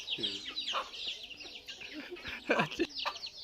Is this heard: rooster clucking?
yes